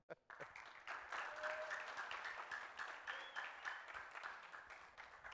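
Studio audience applause on a French-language television variety show, quiet, dense clapping starting after a brief pause and continuing steadily, with a voice briefly audible over it.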